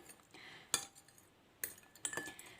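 A spoon stirs slime activator in a cup or bowl, clinking against the side a few times in sparse, light taps with quiet pauses between.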